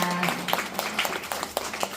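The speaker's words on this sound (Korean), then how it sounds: "졸업을 축하해 우리 동생들에게도 큰 박수를 부탁드립니다." Scattered audience clapping at a kindergarten graduation ceremony, a few uneven, fairly faint claps spread across the moment with no talking.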